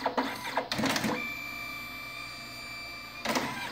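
A fast photobooth printer runs a print job, giving a few mechanical clunks and whirs before settling into a steady motor whine with a high tone, then more clunks as the photo comes out.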